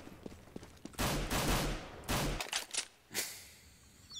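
Gunfire in a first-person shooter game: several loud bursts of rapid shots in quick succession, separated by brief pauses, fairly close and without talk.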